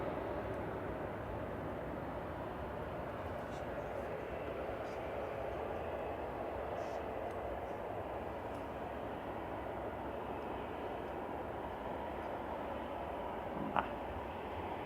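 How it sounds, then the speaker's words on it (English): A 22-year-old Airbus A320 Classic jet departing Manchester Airport, heard as a broad, steady engine roar that stays level and fairly distant throughout. "This is an A320 Classic EUUF, 22-year-old aircraft departing."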